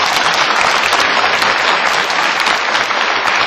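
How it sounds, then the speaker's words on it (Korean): An audience applauding steadily at a lecture, dense clapping that fills the room without pause for a few seconds. "박수 한번 부탁드립니다."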